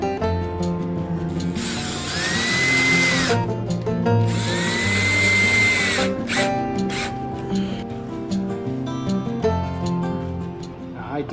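Power drill drives screws into pocket holes on a wooden rifle rack, two sustained whining bursts with a rising-then-falling pitch, close and loud, with a ratcheting clutch sound and background music throughout.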